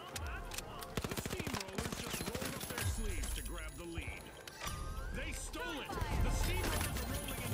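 Rapid automatic gunfire bursts and scattered shots in the video game The Finals, close and punchy, mixed under lively player talk throughout.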